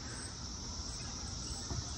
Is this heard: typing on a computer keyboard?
no